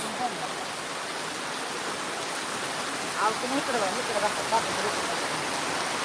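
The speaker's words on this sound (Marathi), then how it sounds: "खूप मोठ्या प्रमाणामध्ये या ठिकाणी पाऊस सुरू आहे" Heavy cloudburst-like rain pours at Pirachi Kuroli, a dense, steady roar of downpour close by, with faint voices breaking through briefly partway.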